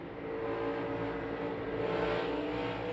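A race car engine at wide open throttle during the Food City 500 stock car race gives a continuous, loud, roaring drone that holds a steady pitch without letting off.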